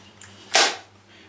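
A Zoraki HP 01 blank pistol snaps shut with a single short, sharp metallic click, quiet and close against near silence.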